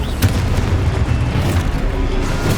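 Booming blasts from the Confringo fire spell in Hogwarts Legacy, a dense rumbling explosion that stays loud and continuous over the short burst, with no talk.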